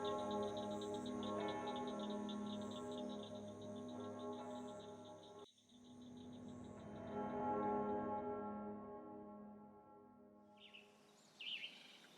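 Distant church bells ring steadily on Lesvos at dawn, with a sustained, resonant hum over a quiet outdoor backdrop, then fade away; faint chirps appear near the end.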